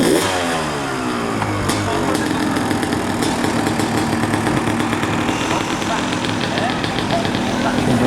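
Several motorcycle engines idle and rev steadily together at an outdoor motorcycle test in a park in Le Touquet, a loud continuous dense drone with slight revving pulses throughout.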